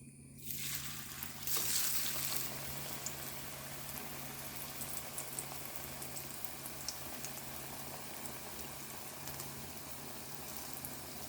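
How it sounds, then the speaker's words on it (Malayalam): Food frying in hot coconut oil, a steady close sizzle and bubbling that rises briefly near the start as pieces go in, then settles into an even crackle with no talking. "എണ്ണ തിളച്ച് കിടക്കുന്നതാണ് പയ്യെ ഇട്ട് കൊടുക്കണം"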